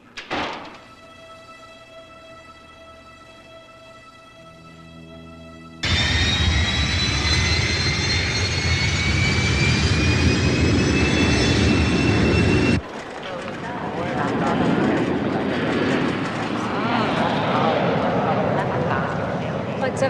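An airplane taking off, a loud steady engine roar with a rising whine that fills the scene, cutting abruptly to a rougher rushing blast, heard after a quieter tonal opening with voices present.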